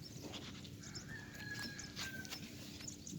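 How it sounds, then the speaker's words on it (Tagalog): A horse walks outdoors near a beach lagoon while on an island-hopping trip, its hooves clip-clopping faintly and steadily against a background hiss, with a rooster-like call and bird sounds in the distance. "Kabayo si Ares"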